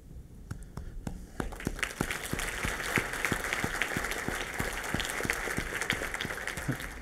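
Brief, scattered audience applause at a public event, a thin run of distinct claps from a small crowd that stays fairly steady and moderately loud throughout.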